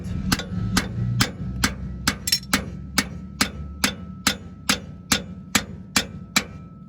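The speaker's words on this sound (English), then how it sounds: "So we finished it off with a punch" A hammer striking a punch to free a rusty bolt while replacing rear shocks on a 2013 RAM 1500: about fifteen sharp metallic blows in a steady, slightly quickening rhythm, close and alone.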